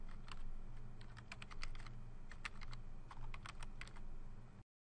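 Typing on a computer keyboard while entering comments in an electronic health record, rapid irregular bursts of clicking keys, near and fairly quiet, no voices.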